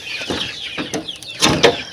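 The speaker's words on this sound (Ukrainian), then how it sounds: "Старших курчат я сюди перевела. І вони тут верещать, хочуть втекти куди." Older chicks in a new outdoor enclosure at evening give repeated shrill, scattered calls and screeches, several bursts close by, with a couple of louder cries near the end.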